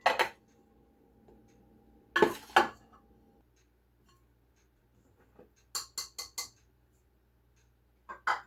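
Clinks and clatters of measuring cups and dishes while flour is measured for carrot muffins in a home kitchen, a few sharp separate knocks with quiet pauses between them, close and with no talk.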